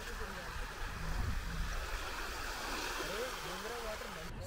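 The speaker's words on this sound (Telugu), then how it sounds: "వాటర్ బాగున్నాయి, వేవ్స్ వస్తున్నాయి చిన్న." Small sea waves roll in at Vizag's Colony Beach, making a continuous soft wash of surf close by. Wind and faint voices sit underneath.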